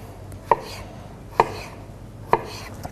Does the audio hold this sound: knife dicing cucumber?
yes